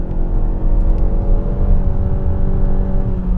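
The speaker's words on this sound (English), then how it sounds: "you can see if it'll let us rev all the way out" A 2022 Mazda CX-5 turbo engine is held high in manual mode against its rev limiter, a loud steady drone heard from inside the cabin, with a slight pulsing flutter and no talking.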